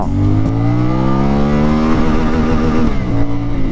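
A CFmoto 450 MT motorcycle engine revs hard in low gear, its loud, steady, high-pitched drone rising as revs climb toward about 7000 rpm, with a brief dip near the end before pulling again.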